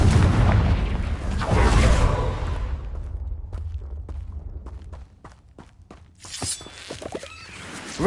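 In Hogwarts Legacy, a Confringo blasting spell lands with a heavy booming explosion that rumbles and fades over a few seconds, followed by scattered sharp pops and crackling debris, then a second burst near the end.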